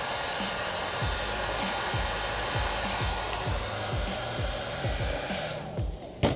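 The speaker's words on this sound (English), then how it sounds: "Again, I'm gonna apply some heat." A heat gun blows steadily onto a satin wood finish, a continuous loud airy roar with a motor whine that holds through nearly all of it and cuts off near the end.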